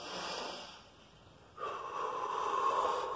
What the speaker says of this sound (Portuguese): respirações ofegantes, puxando pelo nariz